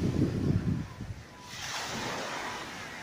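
Sea waves wash along the shore at Amalfi, with yachts moored offshore. A deep, loud surge comes first, then it eases into a steady hissing wash of surf with wind noise on the microphone.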